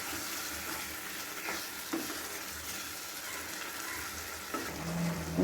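Prawn masala cooking in a pan, giving a steady low sizzle and bubbling with faint stirring, soft and constant throughout with no voices.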